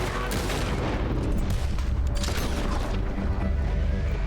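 Rapid gunfire in Red Dead Redemption 2, a dense fusillade of shots with heavy low booms and mechanical clatter running continuously and loudly throughout.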